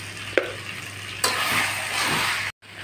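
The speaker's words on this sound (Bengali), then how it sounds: "এবার আমি আলুটার সঙ্গে মশলাটা সুন্দরভাবে কষিয়ে নিচ্ছি" New potatoes and spices sautéed in a pan, a steady loud sizzle with a couple of clacks from the stirring spoon, ending with a brief cut in the sound.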